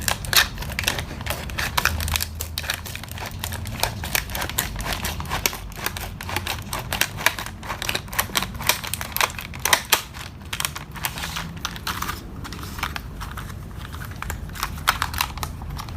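Plastic blister packaging around an IKEA Måla felt-tip colour marker set is cut open, giving a steady run of close, crisp crinkling and clicking plastic noises throughout.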